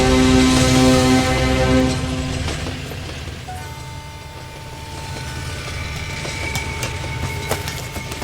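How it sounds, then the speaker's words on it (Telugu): A train pulls away in a film scene, a loud rumbling rail sound with harmonic tones early on that fades to a steadier, quieter rolling with faint clicks. "ట్రైన్ వెళ్ళిపోతుంది సార్"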